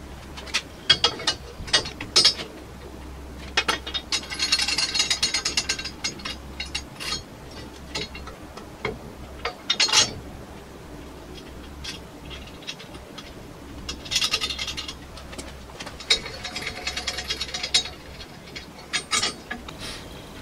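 A ratchet wrench tightens bolts on the front section of a rollover jig for a Seven classic car build, in repeated bursts of fast close clicking separated by pauses and quieter handling noises.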